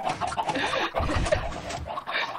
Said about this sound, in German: Das ist sowas von fies, wenn die alle darunter flattern.